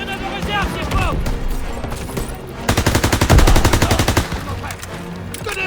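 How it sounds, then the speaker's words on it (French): Rapid bursts of machine gun fire in the World War II shooter Call of Duty WWII, a loud sustained rattling volley in the middle, with battle noise and French-speaking soldiers shouting around it. "Tir de suppression. Continuez à tirer."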